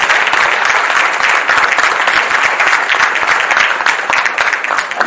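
A crowd applauds steadily and loudly throughout, a dense patter of clapping with no break.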